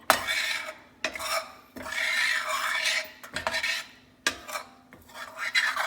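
A spoon scrapes through an almond powder mixture in a pan, stirring in repeated raspy strokes separated by short pauses, close and fairly quiet.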